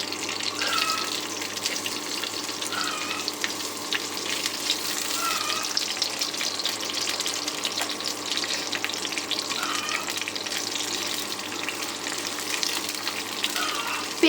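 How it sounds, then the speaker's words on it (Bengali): Onion frying on low heat in a pan with cumin, cardamom and bay leaves, giving a continuous even sizzle and hiss throughout with a few faint kitchen clinks, close and steady, no talking. "পেঁয়াজটা খুব ভালোভাবে ভেজে নিতে হবে।"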